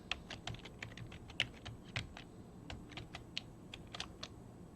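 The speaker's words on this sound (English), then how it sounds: "So I'm going to go ahead and type my password." A computer keyboard being typed on at a login screen, a password entered as a quick series of sharp, close key clicks in irregular bursts with short pauses, over faint room hiss.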